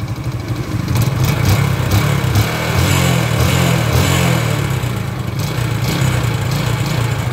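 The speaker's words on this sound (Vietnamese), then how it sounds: "Đó lột dên anh em, tua máy rồi dữ dằn." A Suzuki Sirius motorcycle with a worn piston is revved hard in a repair shop in Go Cong Dong. The engine runs close and loud with a steady, rough buzzing drone, and the revs rise and fall slightly.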